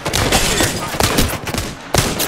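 Rapid bursts of Apex Legends video game gunfire crack repeatedly, loud and close, with several sharp shots standing out over a continuous noisy rattle.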